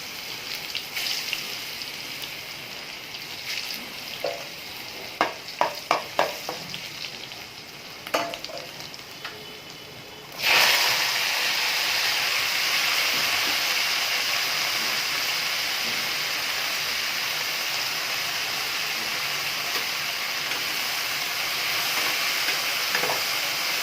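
Garlic and leafy greens frying in a pan: a few sharp crackles and pops at first, then a loud, steady, dense sizzle that holds without a break until the end.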